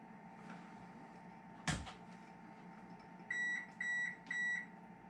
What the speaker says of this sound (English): Sounds like our oven's ready to go too.